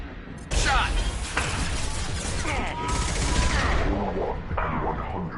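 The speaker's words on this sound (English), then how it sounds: "Firing a high impact shot." Weapon fire from the video game Mass Effect 2 keeps up a loud, dense barrage of shots and mechanical clatter across the whole stretch, with a brief quieter lead-in.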